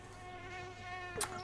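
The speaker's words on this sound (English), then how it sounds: "sorry for the buzzing of the flies. I can't make that go away." Insect buzzing from flies in the car-building game My Summer Car, a steady close drone with a faint hum beneath and a brief brighter hiss near the end.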